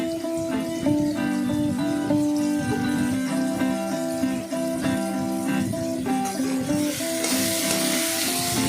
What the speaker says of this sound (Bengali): দিয়ে ভালো করে আলুটাকে ভেজে নিলাম।